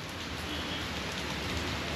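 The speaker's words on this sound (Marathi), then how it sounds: "सिंधुदुर्गमध्ये पाऊस चालूच आहे मित्रांनो" Heavy monsoon rain in Sindhudurg, Konkan, falls in a dense, unbroken roar, loud and constant throughout with no voices.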